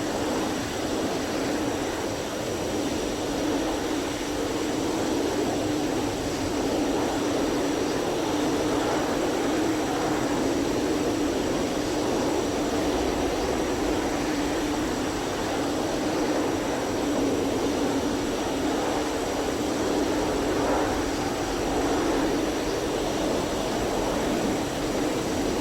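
A heavily loaded JF-17 jet taking off in the DCS flight simulator game: a continuous broad roar of engine thrust with a faint high whine, steady and fairly distant-sounding, no speech over it.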